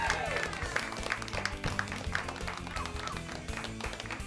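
Applause from a small comedy-show audience at the end of a stand-up set, continuous moderate clapping with scattered sharper claps, lasting a few seconds.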